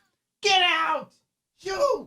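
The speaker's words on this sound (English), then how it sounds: "If you can hear the cat now meowing" A cat meows loudly twice at close range, a long drawn-out cry and then a shorter one after a brief silence.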